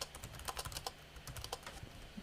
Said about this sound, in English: I'm typing what I'm saying as well